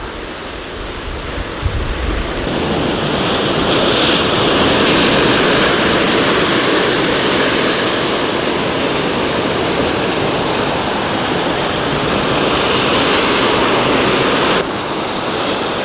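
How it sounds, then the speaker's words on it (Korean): Heavy ocean swell breaking and churning against a rocky shore during rock fishing for opaleye, a loud continuous roar of surf and spray that fills the whole clip with no voices. "이렇게 파도가 아 완전히 이렇게 뒤집어 버리는데"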